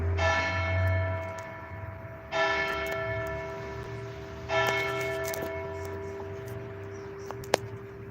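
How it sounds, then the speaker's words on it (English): A church bell tolls three times at slow, even intervals, each ringing strike sustaining and fading before the next, heard at moderate distance. "the bell tolls"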